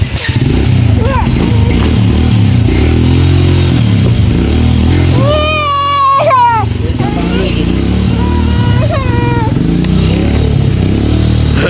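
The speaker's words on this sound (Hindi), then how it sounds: "ये गाड़ी स्टार्ट हुई।" An Apache motorcycle runs during a Vishwakarma puja gathering, its engine droning loudly and steadily throughout while people and children talk over it.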